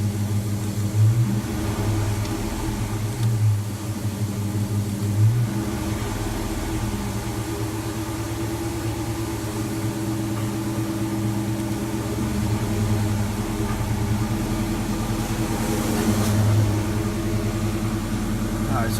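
A Dodge Charger engine idling after a Seafoam treatment, a steady low rumble held near 1,200 RPM, with a person talking over it.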